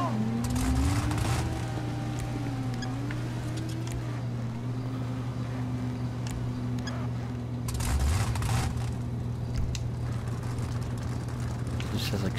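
A trophy truck engine in GTA 5 with straight headers idles and revs in short swells, a steady low drone with occasional blips, while someone talks over it.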